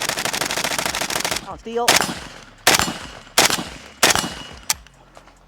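An AK-pattern Pioneer Arms 556 Sporter rifle firing, first a rapid unbroken stream of close, loud shots and then several separate single cracks with pauses between them, and someone says a couple of words.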